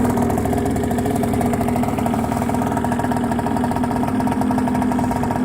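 Hyosung Sense 50 scooter engine idling after a cold start in Norwegian winter at about -5 °C, a steady, even putter held close and constant throughout with no revving.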